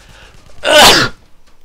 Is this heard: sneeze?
yes